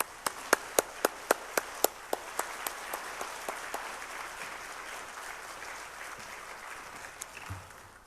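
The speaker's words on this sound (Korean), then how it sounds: "나오실 때 우리 뜨거운 박수로 환영하겠습니다." A church congregation at a Wednesday worship service claps in welcome, beginning with several sharp, distinct individual claps and settling into softer, steady applause.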